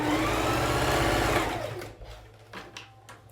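A sewing machine stitches a dart in a child's fabric face mask, a fast, close whirring run that slows and stops after about a second and a half, followed by a few quiet clicks and handling sounds.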